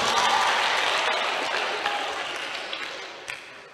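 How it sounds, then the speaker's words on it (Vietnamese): An audience at a monastery Dharma talk gives a big round of applause that starts loud and gradually fades, with a few scattered claps near the end. "Cho bạn một tràng pháo tay lớn."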